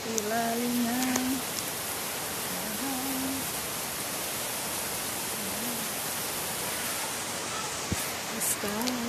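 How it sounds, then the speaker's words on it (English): Steady rain falling in a residential area of Bulacan, Philippines, a constant even hiss filling the background while a voice speaks intermittently over it. "it's raining here in the Philippines"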